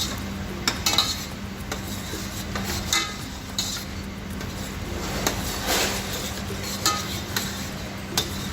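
Diced onion stirred into a pan of softened garlic, with a spoon scraping and clinking against the metal over a low steady hum and faint sizzle, in irregular strokes with no talking.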